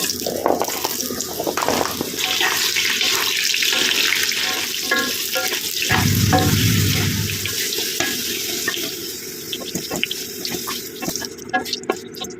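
Sweet potato pieces fry in hot oil with a steady, fairly loud sizzling hiss that runs the whole time, with no voices.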